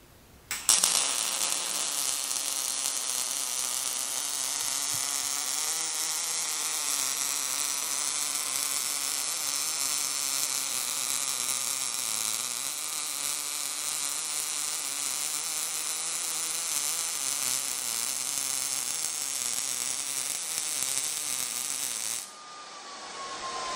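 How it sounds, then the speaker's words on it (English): A Miller 220 MIG welder runs a short arc with 030 wire on 1/8 inch material, a steady, close, crackling buzz sustained for over twenty seconds before stopping abruptly. "Let's see how it welds."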